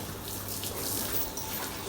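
Water jet spraying over a car being washed, including underneath the body, a steady close hiss of splashing water with no pauses and no talk.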